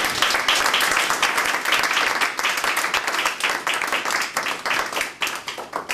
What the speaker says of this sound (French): Applaudissons pour le Seigneur.